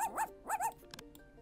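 A dog barks twice in quick, yelping, pitch-bending bursts, close and fairly loud, followed by a few faint clicks and a low hum.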